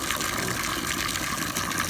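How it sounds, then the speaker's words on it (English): Water gushes steadily from a hose or tap into an animal water bowl on a goat farm, a continuous close rushing and splashing with no talk. "Hang on, we'll fill up your water."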